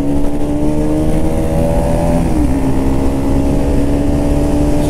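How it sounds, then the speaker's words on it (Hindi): A Yamaha R15 V4 motorcycle pulls away on Siddhra Road as its rider opens the throttle: a loud, close engine drone that holds steady, its tone dipping slightly partway through, with no talking. "इधर से आपका भाई अब इनको थ्रॉटल दे के निकलेगा आगे"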